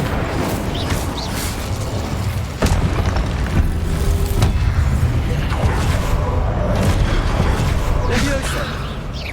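Booming Confringo and Incendio spell blasts in Hogwarts Legacy thud and burst repeatedly over a dense, rumbling wash of combat noise, with a voice speaking over the action.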